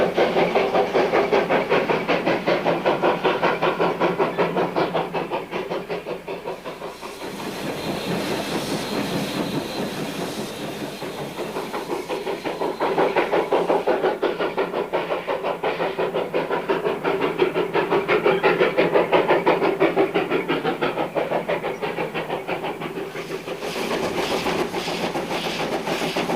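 A 1907 Baldwin steam locomotive, number 8 of the Virginia and Truckee Railroad, working a steep curved grade: loud, rhythmic chuffing and hissing steam with rolling clatter from the cars, sustained throughout with brief lulls and no talk.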